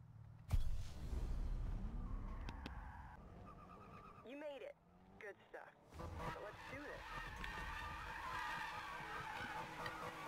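Car in Need for Speed (2015) sliding with a sharp tire skid after a hard impact, followed by engine revs, a burst of squealing tires and a steady engine drone, with a voice talking over parts.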